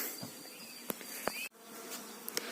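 A swarm of honeybees hums outdoors in spring, a soft continuous buzzing drone with occasional brief louder wingbeats and clicks close by.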